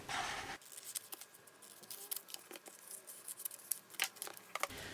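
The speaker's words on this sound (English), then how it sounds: "Might as well just cut all 3 out since I want to figure out my placement." Scissors snip out stickers at a craft table, giving a quiet series of irregular, crisp clicks and snips that sound close by, with no talking.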